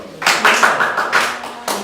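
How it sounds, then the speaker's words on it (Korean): Children at a Sunday worship service clap together in a short burst of brisk applause that swells and fades, with a brief second round near the end. "자, 박수!"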